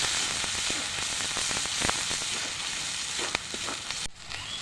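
Masala with cumin paste, coriander powder and a little water sautés in a pan, a steady close sizzle with scattered sharp pops and spatula knocks, stopping suddenly near the end.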